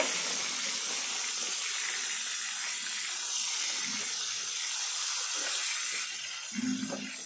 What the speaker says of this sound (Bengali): এখন আমি উল্টে দিয়ে আর এক পাশ ভেজে নেব।